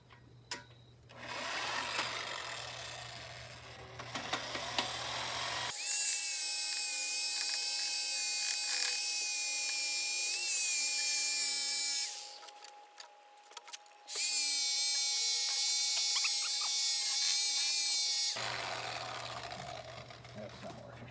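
A power tool whines loudly in long continuous bursts while cutting too-long Chevy bolts stuck into an engine flex plate, with a quieter gap between runs and a voice talking during the quieter stretches.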